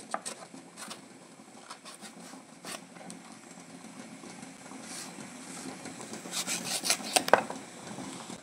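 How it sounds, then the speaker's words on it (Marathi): A knife slices an eggplant (brinjal) into small pieces on a board in a home kitchen. Faint, irregular cutting taps and scraping rubs build to a cluster of crisper strokes toward the end, with no talking. "सो वांग आहे ते आपल्याला असं कट करून घ्यायचं आहे छोट्या स्लाइसमध्ये."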